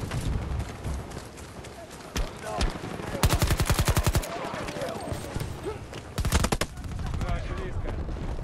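Rapid bursts of automatic gunfire in a video game, with two dense rattling volleys and scattered single shots mixed with footsteps and other game sounds, while a player's voice talks intermittently.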